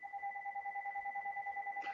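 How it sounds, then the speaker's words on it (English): A telephone rings steadily in the background, a continuous warbling two-tone ring with a fast pulsing pattern, moderately loud, with no speech over it. "Somebody has a ringing phone."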